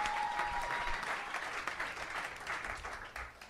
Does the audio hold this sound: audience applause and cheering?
yes